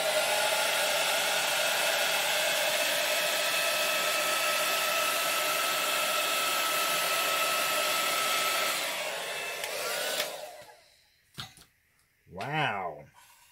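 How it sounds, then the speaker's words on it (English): A loud, steady hair dryer roars for about ten seconds, then cuts off, followed by a brief voice. "hairdryer time"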